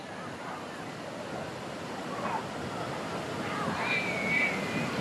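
Water pours down at Kodiveri falls near Sathyamangalam on the Bhavani river, a broad steady rushing wash that swells slightly toward the end, with faint voices in the background.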